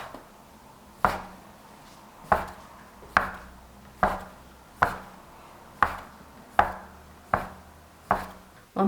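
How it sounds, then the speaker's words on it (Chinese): A knife cuts a rolled log of unleavened dough into equal pieces on a board: about nine crisp, evenly spaced chops, close and clear in a quiet kitchen. "直接搓成长条状，切成大小均等的面剂"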